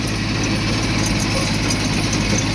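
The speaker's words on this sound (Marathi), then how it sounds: "आठ अठ्ठावीस मॅसेज ट्रॅक्टर आहे" A Massey tractor engine idles loudly and steadily close by in a field, a constant low rumble with no pauses.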